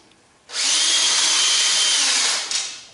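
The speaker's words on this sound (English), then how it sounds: "going to use a corded electric drill, don't spin it at full speed" A corded electric drill spinning a dowel shaft on a barrel taper tool at a table saw whirs up sharply, holds a steady high-pitched spin for about two seconds, then winds down.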